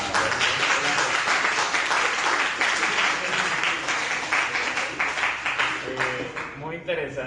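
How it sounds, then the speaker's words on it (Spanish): Audience applause after a biology lecture on the scientific revolution, a dense sustained clapping from a crowd that thins toward the end as a voice begins speaking. "démosle un fuerte aplauso"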